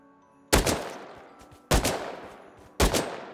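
Three loud, close gunshots from the video game Rust ring out about a second apart, each a sharp crack followed by a decaying rumbling tail, with quiet background between the shots.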